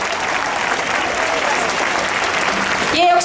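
An outdoor festival crowd at a concert in Malmö, Sweden, applauds in a broad, sustained roar of clapping. Near the end a tonal sound cuts in, likely a voice or instrument.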